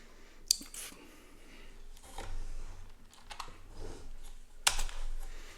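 Someone types a short command on a computer keyboard, giving a few scattered, fairly quiet key clicks with a couple of sharper taps, over faint background noise.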